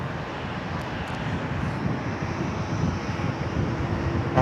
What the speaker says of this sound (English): Another little air ambulance coming out to play, Alpha Mike Quebec